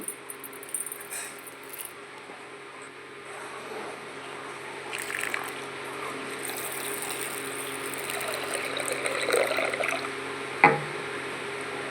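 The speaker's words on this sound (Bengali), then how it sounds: "এটা আমি জল দিয়ে ধুয়ে নেব" Urad dal being washed with water in a bowl, with soft grainy rattling and swishing that slowly builds in loudness, then a brief louder knock near the end.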